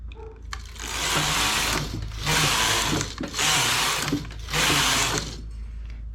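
A domestic knitting machine carriage, set up for vertical stripes and jacquard, is pushed across the needle bed in four sweeping passes. Each pass is a loud rushing, clattering run, with short quieter pauses between strokes.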